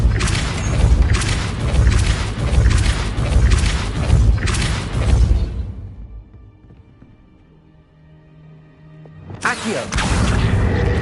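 Repeated spell-casting blasts from Hogwarts Legacy, a series of loud booming whooshes in quick succession, then a brief quieter lull with low tones before another burst of effects returns.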